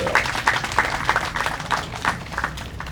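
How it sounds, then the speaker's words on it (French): A hall audience applauds for the Belgian ambassador at a formal ceremony of the Burundi Ombudsman's office, giving a fairly loud, steady patter of many hands with a rhythmic pulse. "je vous prie de l'applaudir"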